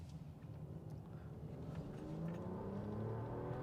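A Mercedes E-450 4Matic with a mild hybrid system accelerates, its engine drone swelling and climbing steadily in pitch as it gains speed, heard from inside the car.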